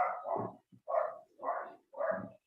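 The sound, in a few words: dog barking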